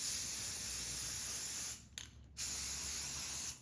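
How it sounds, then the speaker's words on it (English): Rust-Oleum chalked spray paint hisses from an aerosol can in two long, close, steady bursts onto thrifted wooden risers, separated by a short pause with a faint click. "All right, we're going to start spraying here."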